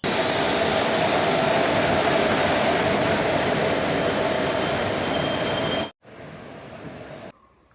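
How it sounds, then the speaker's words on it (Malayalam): Chennai Egmore–Tirunelveli–Guruvayur express rolling into platform 2, a loud continuous rumble and clatter of carriages with a steady tonal whine, cutting off abruptly near the end to a quieter tail. "എനിക്ക് പോകേണ്ട ചെന്നൈ എഗ്മോറിൽ നിന്ന് തിരുനെൽവേലി വഴി ഗുരുവായൂർ വരെ പോകുന്ന എക്സ്പ്രസ് 2ാമത്തെ പ്ലാറ്റ്ഫോമിലേക്ക് കടന്നു വരികയാണ്"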